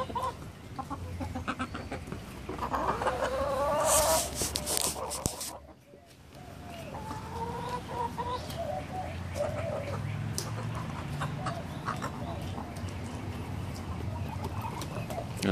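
Backyard chickens cluck and murmur nearby while pecking at and eating pieces of pork, with a few louder squawks and a brief rustle, the soft clucking continuing steadily throughout.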